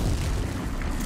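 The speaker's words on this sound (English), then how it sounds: "That's a kaboom." Low rumbling boom of an explosion in Horizon Zero Dawn, a dense heavy blast filling the short stretch with noisy roar and no voices.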